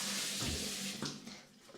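Water gushes from an overhead shower head in a hotel bathroom shower, a loud, steady hiss that fills the space and eases off slightly near the end.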